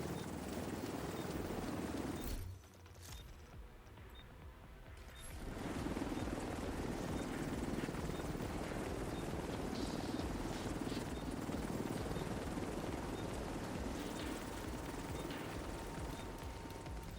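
An extraction helicopter in The Division 2 drones with a loud, steady rotor hum that dips briefly, then returns and holds steady.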